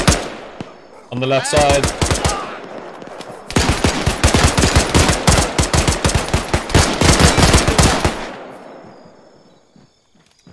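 Arma 3 gunfire crackles in long rapid automatic bursts, loud and close, with a short volley first and then sustained firing for several seconds before fading out, while players talk over the shooting.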